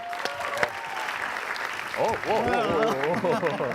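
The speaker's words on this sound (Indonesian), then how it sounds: "Tepuk tangan dulu buat kedua teman saya ini." Studio audience applause greeting two guests on an Indonesian game show, a steady wash of clapping running throughout while voices talk over it.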